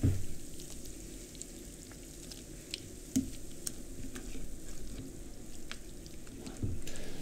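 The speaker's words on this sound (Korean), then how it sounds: "섞어주면서 고두밥을 잘 분리시켜줍니다." Steamed rice (godubap) mixed and broken apart by hand for homemade makgeolli, producing a steady soft squishing and rustling texture with occasional louder thumps, close up and with no talking.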